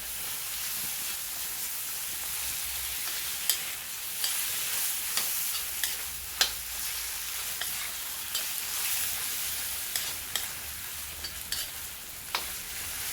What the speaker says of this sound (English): So we're going to let this fry for a while